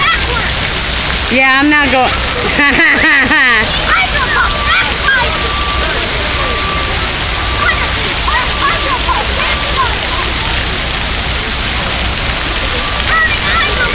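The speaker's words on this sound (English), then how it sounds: "you definitely ain't hearing nothing but the water fountain behind me" A public water fountain in Perry Square, Erie, splashes as a loud, constant roar of falling water close by, with a person speaking briefly over it near the start.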